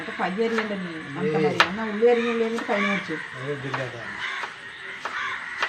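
Crows caw repeatedly nearby, harsh nasal calls following one another in an irregular series, fairly loud and close.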